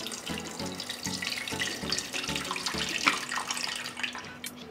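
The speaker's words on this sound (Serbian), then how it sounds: "sada ću tečnost iz tegle sipati u šerpu." Liquid is poured from a jar into a pot in a continuous gurgling stream, with rhythmic glugs close by as it flows out.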